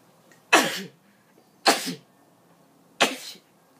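Three loud, sharp sneezes in a row, close up, each a sudden burst separated by about a second of quiet.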